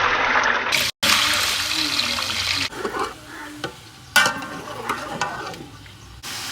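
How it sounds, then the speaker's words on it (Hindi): Chicken pieces frying in hot oil in a pan, with a wet sizzle and stirring scrapes rising and falling at close range; brief gaps break the sound. "अभी इसी आयल में हम जो है वो चिकन शामिल करेंगे।"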